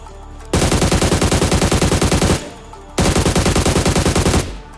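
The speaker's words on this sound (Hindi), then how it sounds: "एक तो स्नाइप कर रहा है मेरे पे" Automatic rifle fire in the mobile battle royale game PUBG Mobile, two long loud sustained bursts of rapid shots, each lasting about two seconds with a short quiet gap between them, close and dominant.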